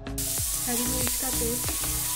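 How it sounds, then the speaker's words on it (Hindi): Ginger, garlic and green chili paste with turmeric sautéing in a hot pan, a steady close sizzle running throughout with light stirring scrapes and no talk. "हम इसे अच्छे से भूनेंगे।"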